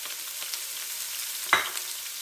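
Peppers being stirred in a hot frying pan on medium heat, a soft steady sizzle with one brief scrape of the spoon partway through, close and quiet with no talking.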